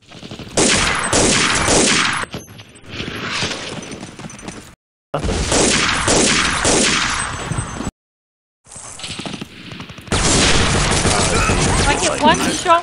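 Gunfire in the World War II shooter Day of Defeat: loud, close bursts of repeated shots in several runs broken by short silent gaps, with people talking over parts of the shooting.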